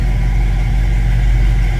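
A 1968 Ford Mustang Convertible's V8 engine idles steadily with a deep, even rumble, close by and loud, with no talking.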